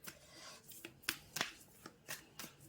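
Tarot cards are shuffled and drawn by hand, giving soft close-up flicks and slaps spaced irregularly over a few seconds. The sounds are quiet and there is no talking.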